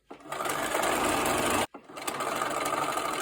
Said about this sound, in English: Take the next pair, line up across each one of the edges, and then stitch.